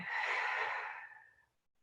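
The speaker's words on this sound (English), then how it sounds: "Take a breath in and a breath out" One slow, close exhale flows out as a soft, airy breath, fading into silence after about a second and a half.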